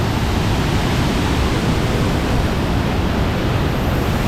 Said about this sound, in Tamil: இது வந்து நேச்சுரல் ஃபால்ஸு.